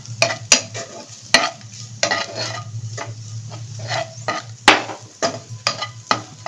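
Onion fries in a pan with pizza seasoning, a steady close sizzle broken by repeated rhythmic scraping and clattering stirring strokes, with no talk.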